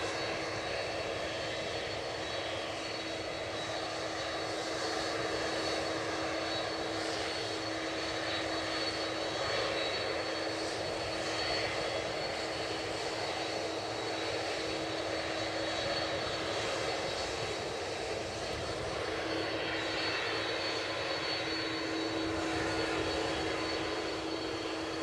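A Delta jet airliner at Edinburgh Airport gives off a continuous engine roar with a persistent high whine running through it, moderately distant and steady, with no talking.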